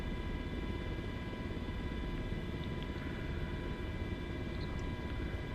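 A Sikorsky MH-60 Black Hawk helicopter flies on a firefighting mission in Portugal, its engine and rotor giving a loud, constant droning whine and rumble throughout, heard close up from inside the aircraft.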